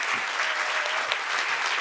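An audience at the California Hall of Fame ceremony claps in a steady, dense round of applause, loud and continuous throughout with no voices over it.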